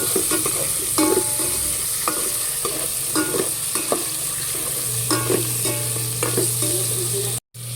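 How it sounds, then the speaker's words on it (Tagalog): Ingredients for pork sinigang sauté in a hot pan, with a steady sizzle punctuated by repeated clinks and scrapes of a utensil stirring, close and continuous until a brief drop at the end. "Ako po ay nagigisa na"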